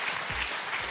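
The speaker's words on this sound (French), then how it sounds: "Applaudissements, mesdames et messieurs." Studio audience applause on a French television game show, a dense steady wash of clapping at close range filling the whole short moment without voices.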